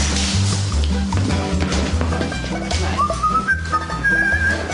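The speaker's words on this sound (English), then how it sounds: "Please do not whistle." A person whistles a rising, thin tone in the latter half, over a busy background of low rhythmic sound and clatter.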